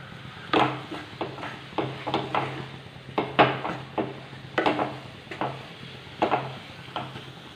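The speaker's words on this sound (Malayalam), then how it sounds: "ഇനി നമ്മൾ ലോ ഫ്ലെയിമിലേക്ക് വെച്ചിട്ട് ഈ അവലും ഈ പഴവും കൂടി നന്നായിട്ടൊന്ന് മിക്സ് ചെയ്തെടുക്കാം" Flattened rice and plantain get stirred in a pan over low flame, a spoon knocking and scraping in a regular rhythm of about a dozen close, moderate taps.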